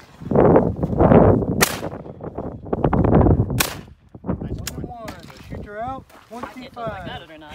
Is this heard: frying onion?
no